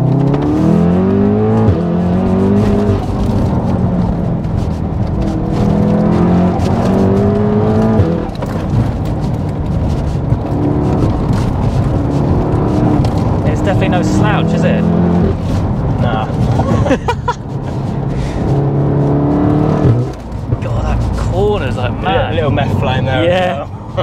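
A tuned, big-turbo 564 bhp VW Golf R MK7 accelerates hard with a loud, continuous engine roar whose pitch climbs through the gears, heard from inside the car with people talking over it.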